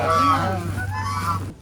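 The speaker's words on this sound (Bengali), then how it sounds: "ভিতরে কিছু অসাধারণ রাজহাঁস দেখতে পেলাম।" Geese at a rural picnic spot in Bangladesh giving a few overlapping nasal honks, fairly close and loud, over a steady low hum that cuts off at the end.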